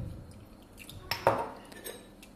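A spoon clinks against a glass while stirring cornflour into half a glass of water for rice pudding, a few light metallic taps and scrapes, quiet and close, with a brief brighter clink midway.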